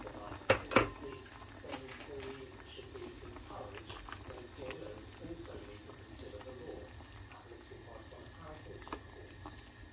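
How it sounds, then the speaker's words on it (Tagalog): A pot of tom yum chicken soup bubbles and simmers quietly under faint kitchen background noise, with a couple of brief clinks near the start. "Okay, kumukulo na."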